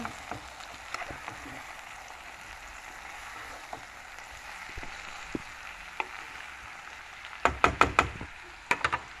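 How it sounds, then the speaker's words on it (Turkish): Mushrooms sautéing in a pan under a soft steady sizzle, then a run of sharp knocking clatters near the end as a utensil stirs and tosses them against the pan. "Evet bütün mantarlarımızı attık. Şöyle bir alt üst edelim."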